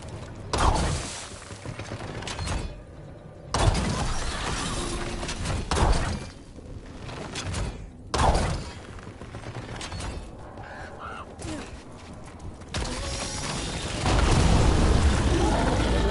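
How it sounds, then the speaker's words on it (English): Heavy mechanical thuds and booming impacts come from a ballista firing repeatedly in a fantasy video game, a loud cluster every few seconds with crashing debris and a rumbling bed in between. "Check out the ballista. Could be useful. You just want to shoot stuff."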